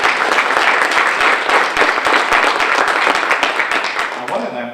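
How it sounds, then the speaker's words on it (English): A conference audience gives a sustained round of applause for the event's main sponsors at a Joomla Day gathering in Florida, dense clapping holding steady for several seconds before tapering off near the end. "let's give a good round of applause for our main sponsors"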